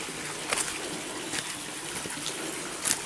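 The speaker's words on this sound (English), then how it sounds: "Here'd be another little waterfall." A small waterfall in Great Gully near Cayuga Lake sends out a steady rushing splash, with a few brighter spatters breaking through the continuous flow.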